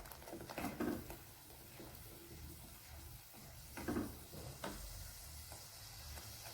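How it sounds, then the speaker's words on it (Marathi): Masala gravy with spices bubbles and sizzles in hot oil while being stirred for a matar kobi (peas and cabbage) dish, a steady soft frying hiss with occasional louder scraping stir strokes. "ग्रेव्हीला चांगली बुडबुडी येईपर्यंत आपण हलवत राहणार आहोत"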